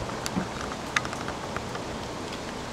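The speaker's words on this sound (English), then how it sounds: "It's a rainy day" Steady rain falls outside on a wet day, a soft continuous hiss with a few sharper drips and patters standing out, heard alone at moderate level.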